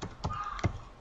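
Keys on a computer keyboard are typed in a short run, giving a few soft, close taps with no talking.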